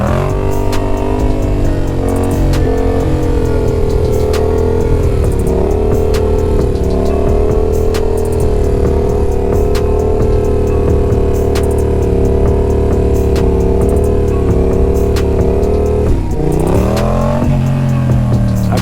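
A Yamaha XSR700 stunt-built motorcycle holds a wheelie, its engine droning loud and steady at high revs up close, pitch wavering slightly before a brief dip and rise near the end.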